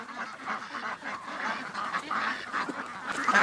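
Geese honk in a loud, chaotic chorus, with overlapping calls building steadily and growing louder toward the end, no one speaking.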